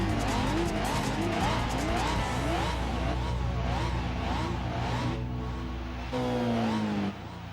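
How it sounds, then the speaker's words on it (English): A Toyota Celica racing in Gran Turismo 4 produces a loud, steady engine drone with warbling tire squeal that rises and falls rhythmically, then a sustained higher squeal near the end before the sound drops off. "we are driving a Toyota Celica that's apparently called Daruma"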